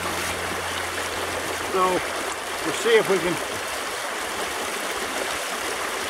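Steady rushing of a deep creek in Washington State fills the background while someone speaks briefly over it.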